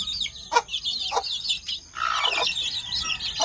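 Native backyard chickens cluck and chirp in short, scattered bursts, close by over a quiet outdoor background.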